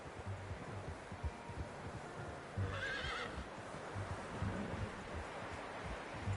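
A horse in Red Dead Redemption 2 gives a short whinny partway through, surrounded by soft clip-clop of hooves and rustling outdoor ambience, all fairly quiet and close.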